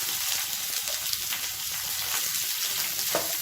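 Sliced large onions sautéing in hot oil with a few mint leaves for egg kurma, a steady, loud, close sizzle with faint stirring scrapes and no voices over it.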